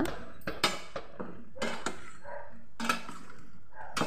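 A metal lid goes onto a pan of brinjal curry with a series of sharp clanks and clinks, a few louder knocks spread across several seconds, close by.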